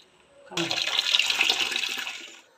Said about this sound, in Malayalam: അപ്പോൾ രണ്ടാമത് വെള്ളം ഒഴിച്ച് അടുപ്പിൽ വെച്ചിട്ടുണ്ട്